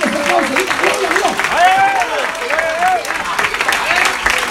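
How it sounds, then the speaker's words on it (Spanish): A church congregation applauding loudly, a dense, continuous wash of clapping while a voice shouts and sings over it. "¡Dale fuerte ese aplauso!"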